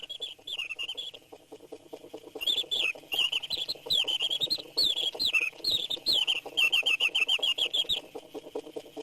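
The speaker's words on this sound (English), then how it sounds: "Preening birds, singing birds. This one springs from the head of a cane." A mechanical singing bird automaton springs from the head of a cane and trills a rapid run of high warbling chirps and whistled phrases, loud and close, in bursts with brief gaps and no voices.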